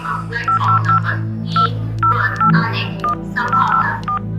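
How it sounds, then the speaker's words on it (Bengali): A phone number being dialed, a run of short electronic keypad beeps in quick irregular groups, loud and close over a low steady hum. "সে আবারও ফোনটা বার করলো ফোন করলো"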